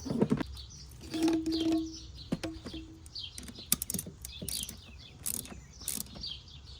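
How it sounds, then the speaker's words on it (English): Rapid, close clicking of a 3/8 ratchet torquing an expansion plug on a Mercedes engine, in quick uneven bursts with a few metallic taps and faint birds chirping behind. "Now you're gonna torque it with the 3/8 ratchet"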